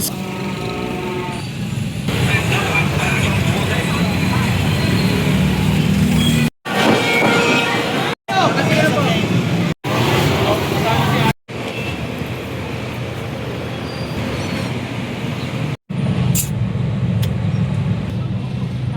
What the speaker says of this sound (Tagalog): Grabe na ang traffic.